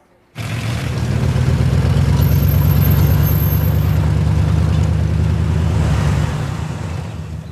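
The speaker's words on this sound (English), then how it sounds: "There it is. Hole in the muffler." A car engine with a hole in its muffler roars loudly and steadily for several seconds, a deep throaty rumble that starts abruptly and then drops away near the end, with no talking.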